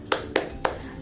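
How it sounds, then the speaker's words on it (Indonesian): Three sharp, evenly spaced hand claps, fairly faint and close, as children do a rhythmic spirit clap in a classroom lesson. "sekali lagi tepuk semangatnya?"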